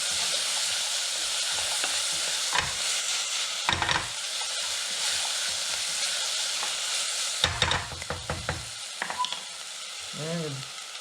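Garlic and chopped vegetables sizzle steadily in a stew pot, a continuous loud hiss broken by a few bursts of stirring and scraping, with a brief voice near the end.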